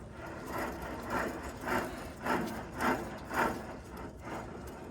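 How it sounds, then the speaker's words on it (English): A worn wheel bearing on a car rotor hub, removed rotor, turned by hand, giving six evenly spaced grinding, rumbling swells about half a second apart over a steady low hum, close and moderately loud. "This is what a bearing sounds like."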